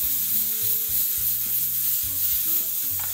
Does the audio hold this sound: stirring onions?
yes